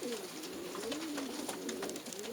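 Pigeons coo steadily in a loft of long-distance racing birds, a continuous soft low warbling from several birds close by, with faint rustling and chirps above and no talk.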